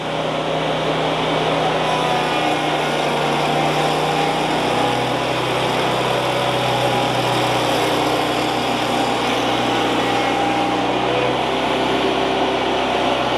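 A sawmill running a horizontal cut through spruce for bevel siding, a loud continuous engine drone with a steady blade whine throughout and no speech.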